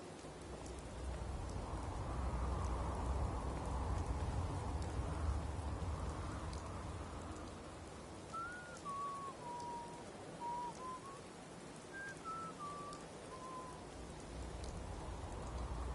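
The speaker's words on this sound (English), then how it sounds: "how wonderful it'll be to get out of this infernal rain." Rain falls steadily in the video game Fallout 4, a dense even hiss throughout, while faint whistling bird-like calls drift in over the latter half.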